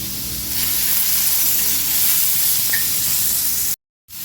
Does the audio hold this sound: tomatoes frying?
yes